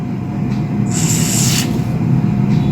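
Zorik 88 contact cleaner sprayed into a cable socket on a Sony KDL-50W800C TV: one short, hissing burst lasting under a second, heard over a steady low hum.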